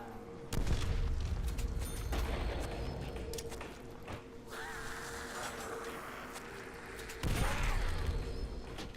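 Combat sounds from Call of Duty: World at War zombies on the Verruckt map, a few heavy booms and thuds breaking through a busy game background, with two loud bursts and quieter shuffling between them.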